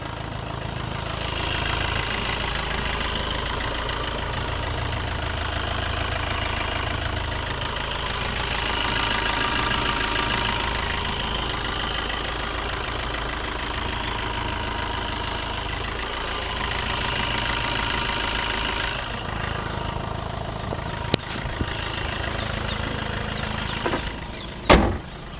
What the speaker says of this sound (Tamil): வண்டியோட இன்ஜின் சவுண்ட் எப்படி இருக்குன்றதை நான் மைக்கை பக்கத்தில் வச்சு காட்டுறேன்